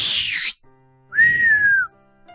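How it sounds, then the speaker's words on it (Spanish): A person whistles two notes close by, a short sliding high tone followed by a clear sustained whistle that dips at the end, with quiet gaps between. "silbó."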